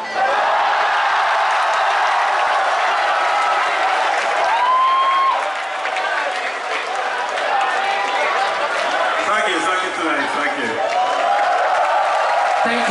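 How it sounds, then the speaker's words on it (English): A large audience at a Tekken fighting game event breaks into sustained, loud applause mixed with cheering and crowd chatter, filling the hall steadily for the whole stretch. "let's give them a round of applause"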